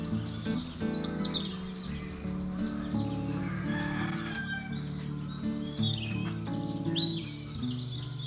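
Young birds in a small wooden birdhouse in a garden chirp in quick, high, bright bursts, repeated close and clear over a low tonal background.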